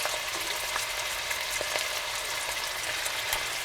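Inch-sized beef pieces sizzle steadily in light olive oil in a pan, a dense, even crackle with occasional pops and no talking.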